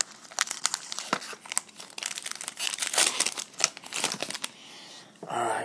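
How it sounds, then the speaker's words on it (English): Crinkly plastic wrapper of a football trading card pack being snipped with scissors and torn open, dense rustling and crackling up close, ending with a short smoother scrape. "these packs are going to be a little bit difficult to open, so I'm going to use the scissors"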